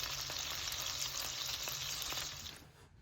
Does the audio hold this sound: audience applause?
no